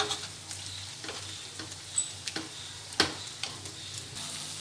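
Boiled moong beans, green chillies and potatoes being mashed in a pot make quiet, irregular soft taps and squelchy knocks, close by and without any talk.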